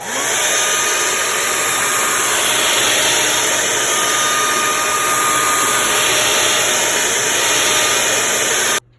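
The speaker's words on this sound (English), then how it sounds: "I'm just gonna take a hairdryer and go around the edges just to loosen the adhesive" A hair dryer blows steadily at high power around the edges of an iPhone 7 Plus display to loosen adhesive, a loud constant whooshing whir that runs for several seconds before cutting off abruptly.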